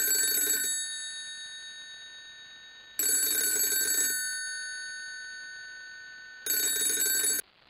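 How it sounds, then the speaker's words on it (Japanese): A telephone rings in three bursts of a bright, trilling bell, each lasting about a second with a lingering tone fading between rings, clear and alone without voices. "電話が鳴った。"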